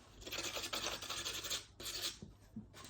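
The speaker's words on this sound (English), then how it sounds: "Just get a bit of sandpaper." Pastel stick rubbed against sandpaper to clean a waxy edge, giving close, steady dry scratching strokes that stop briefly near the end before resuming.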